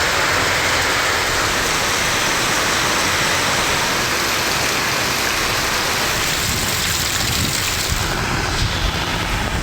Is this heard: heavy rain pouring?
yes